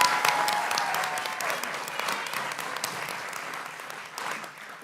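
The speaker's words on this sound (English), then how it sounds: "give them another round of applause" A school board meeting audience claps for middle school students, a dense steady round of applause from a roomful of people that fades slightly toward the end, with no talking.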